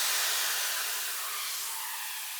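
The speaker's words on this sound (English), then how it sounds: "For some energy I added a bunch of downlifters." A downlifter effect in an electronic dance production sweeps as a loud, airy white-noise wash that slowly falls in pitch and thins out over a couple of seconds.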